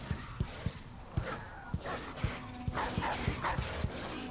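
Dogs in the video game Dishonored 2 bark in a quick, regular series of short yaps, moderately close over a low ambient game hum, with no talk.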